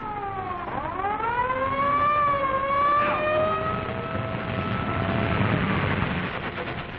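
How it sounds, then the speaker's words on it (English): A wailing ambulance siren in an old 1937 crime serial rises and sweeps in pitch as it draws near, loud and continuous over faint traffic rumble. "Ambulance coming, Sam"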